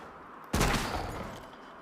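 A single loud gunshot in a zombie apocalypse short set in a blizzard, cracking suddenly out of quiet and trailing off in a long, echoing decay.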